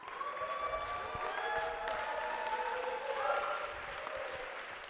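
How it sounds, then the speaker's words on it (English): Audience on its feet clapping and cheering, a broad sustained wash of applause with whoops and raised voices riding over it, fairly distant and steady throughout. "I want you all to stand up and get on your feet, make a lot of noise, clap."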